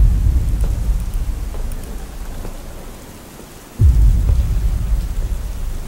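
Thunder rumbles through a storm in the Slender horror game's mansion map, with a low roll fading, a short lull, then a sudden loud crack over steady rain.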